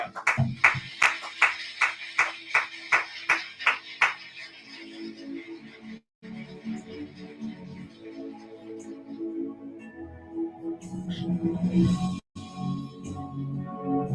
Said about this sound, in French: Applaudis pour le Saint-Esprit